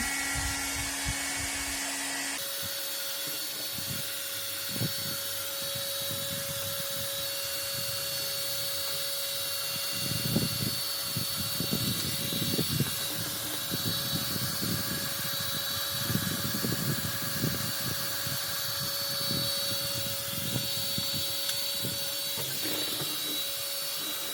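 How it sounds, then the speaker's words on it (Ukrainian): A steady, high whining heat gun runs continuously as film is stripped off kitchen cabinet doors, with a constant tone and scattered scraping and rustling noises underneath. "Процес зняття плівки з дверцят. Це робиться будівельним феном."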